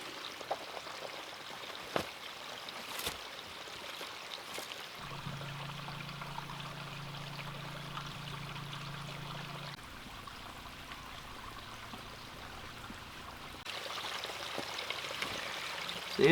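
Water being poured for filtering through a Blackbird multi bag into plastic cups: a soft, faint trickling stream running steadily, with a low hum in the middle and scattered small knocks.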